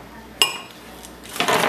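Dishes and cutlery clink while bun dough is being prepared in a home kitchen: one sharp ringing clink, a lighter tap, then a burst of rattling and scraping crockery toward the end, all close by.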